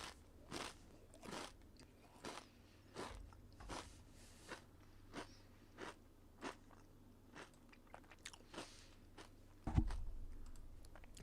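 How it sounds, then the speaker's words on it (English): Triscuit crackers being chewed near the microphone: a quiet, steady series of crunchy bites repeating roughly every half second, with a louder thump near the end and no talking. "Pardon the chewing."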